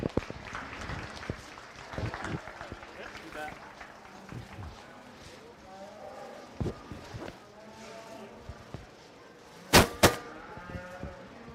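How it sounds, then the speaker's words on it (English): Faint scattered clapping from a small crowd for a young exhibitor with an Angus entry at a county fair beef show, low and thin over arena background noise with a few bumps and two sharp knocks near the end. "Let's go ahead and give that young lady a nice round of applause."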